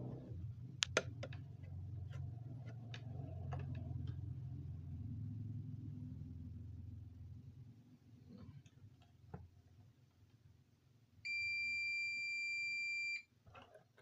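A multimeter set to diode continuity mode gives a steady electronic beep lasting about two seconds near the end, preceded by quiet clicks and handling noise during a TV repair.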